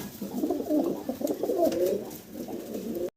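Two pairs of pigeons kept for sale coo steadily and close by for about three seconds, their soft, throaty calls overlapping with no talk over them.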